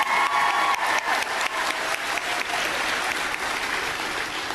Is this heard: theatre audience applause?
yes